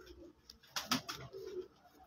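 Rooftop pigeons cooing in short soft bursts, a few low calls close by with light background noise.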